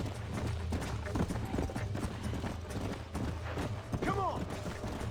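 A horse's hooves clip-clop in the video game Red Dead Redemption, a quick, fairly faint rhythmic patter under game ambience, with a brief neigh near the end.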